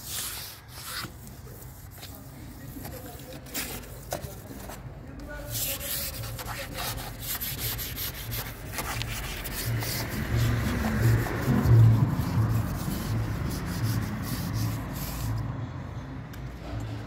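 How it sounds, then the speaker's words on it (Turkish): Rubbing compound is worked by machine over the painted surface of a car door, producing a continuous, fairly loud scouring and whirring hiss that swells toward the middle and carries on with no talk. "Şimdi pastayla parlatacağız."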